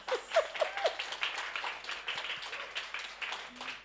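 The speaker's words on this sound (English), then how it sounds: "Clap for me" Audience at a book chat session at the Ake Festival clapping steadily, a soft, somewhat distant round of applause with a few brief vocal sounds at the start.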